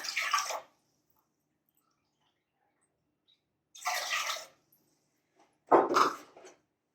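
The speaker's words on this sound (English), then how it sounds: "I'm taking this and I'm adding 2 cups of distilled water." Distilled water is poured in three separate bursts to dilute coffee, each a short splashing pour separated by silence, close and fairly clear.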